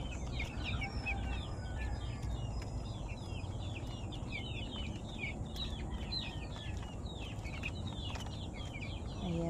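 Young broiler chickens, seventeen days old, cheep and cluck in a dense continuous chorus from a crowded flock, steady and fairly loud throughout with no talking.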